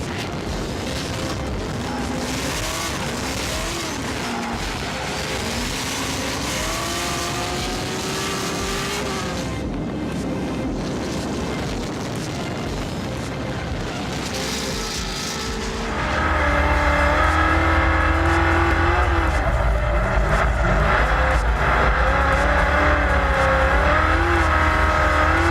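A car on drifting runs, loud engine roaring and revving with rising and falling pitch, then a sudden louder, harsher surge of engine noise and tire roar that holds to the end, with no talk.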